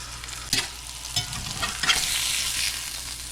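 Smash burgers sizzle on a hot griddle in a constant bright frying hiss, broken by a few scraping spatula strokes, close and loud with no talking.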